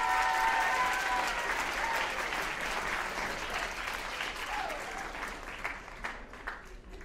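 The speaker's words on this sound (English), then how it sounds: "Give him one more round of applause." A seated audience at a school writers' event applauds steadily for several seconds, a dense wash of clapping that slowly thins toward the end, with a few scattered voices underneath.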